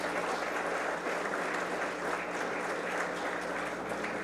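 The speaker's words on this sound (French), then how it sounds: "Je remercie l'assistance de bien vouloir saluer le travail de M. Pascal Lamy à la tête de l'Organisation mondiale du commerce par de chauds applaudissements" Warm applause from the assembled audience at a CARICOM aid-for-trade strategy launch ceremony, honouring Pascal Lamy's tenure at the World Trade Organization; a steady, even wash of many hands clapping, moderately loud and sustained without a break.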